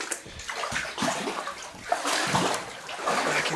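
Footsteps wading through water inside a flooded tunnel on level 8 of the Ottawa mine, with steady splashing and sloshing close by and no one speaking.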